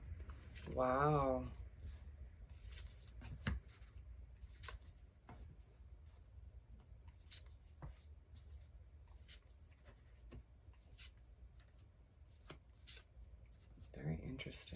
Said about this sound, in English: Let's lay out the rest of the cards for you.